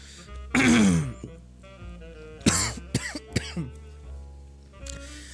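One person coughs and clears the throat several times at close range during a home live stream, with a heavy cough followed by a series of shorter throat-clearing grunts.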